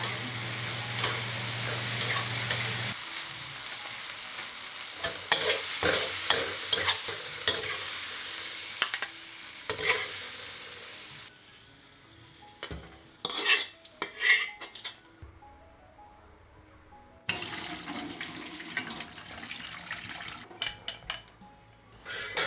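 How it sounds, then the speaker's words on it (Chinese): Green beans and lean pork are stir-fried in a wok, with steady sizzling under repeated scraping and clinking of a utensil against the metal, loud and close throughout. "豆角炒得差不多熟了，就再倒回那个瘦肉哈，给它炒转。"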